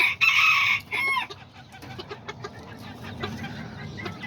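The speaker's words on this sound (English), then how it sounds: "this is my azteca rooster right here" Azteca rooster clucking and crowing close by, a few loud bright calls at the start, then softer scattered clucks and faint farmyard noise.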